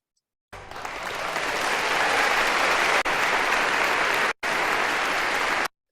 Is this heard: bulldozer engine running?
no